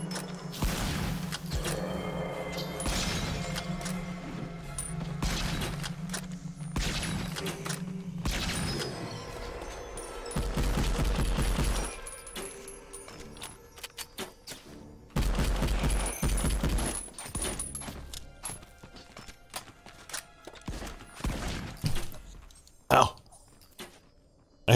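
Bursts of gunfire and mechanical weapon clatter in the VR shooter The Light Brigade, fighting several enemies, with sharp shots scattered through the stretch and a voice talking over parts of it.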